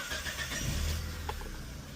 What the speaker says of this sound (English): we're going to just start the vehicle up, do some checks, and see exactly what's going on